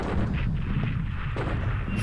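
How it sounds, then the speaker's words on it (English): Airstrike explosions in the computer war game War in the Pacific, a steady low rumbling of distant blasts and booming impacts running continuously through the whole moment, dense and heavy with no clear gaps. "now we've got an airstrike on Alor Star"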